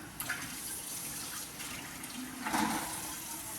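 Water pours into a pot of lasagna sauce, a faint, steady liquid gush lasting a few seconds with a brief stronger splash near the end.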